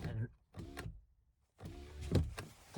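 A Honda Pilot's electric window motor whirs in short bursts, with a gap of quiet between runs; the motor hum sounds close and fairly steady.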